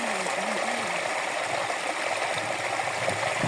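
Spring water from a freshly opened spring source gushes out in a steady, loud, broadband rush, continuous and close, with no voices over it.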